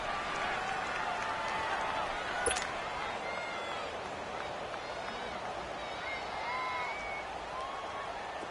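Steady crowd roar from a football video game stadium ahead of a big third down, a continuous noisy wash of cheering with faint whistles and calls layered through it at a constant, fairly loud level.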